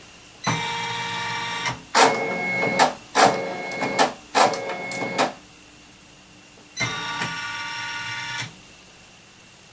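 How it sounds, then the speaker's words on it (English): An embroidery machine stitches out a design in a series of close, rapid mechanical whirring bursts separated by short pauses, with a longer gap before a final run. "this is going to stitch out even less than the first one"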